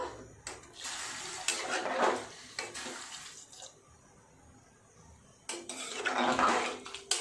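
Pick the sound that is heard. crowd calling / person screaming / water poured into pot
water poured into pot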